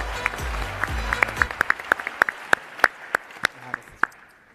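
Sparse, scattered hand claps from an audience welcoming the owners of Woodhouse Spa at a global forum, individual claps ringing out clearly over a low murmur for several seconds.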